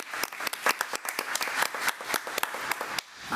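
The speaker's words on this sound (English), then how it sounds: "Let's give a round of applause." A crowd at a committee meeting claps in a dense burst of applause, with sharp individual hand claps standing out over the steady patter for a few seconds.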